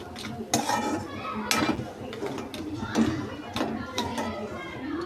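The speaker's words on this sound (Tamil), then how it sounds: "அது நல்லா மசாலா அந்த நண்டில் சேர்கிற வரைக்கும் கலரி விடுங்க" Crab tossed with masala in a metal pot for crab soup, with steady scraping and clattering of a spoon against the pot in close, repeated strokes, while someone talks throughout.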